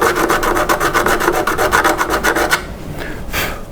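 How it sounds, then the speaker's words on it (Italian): Short back-and-forth filing strokes rasp steadily over solder residue on a metal wire mesh for a model railway layout, about a dozen close, even strokes before a few quieter scrapes. "Andiamo a togliere un po' di residuo della saldatura."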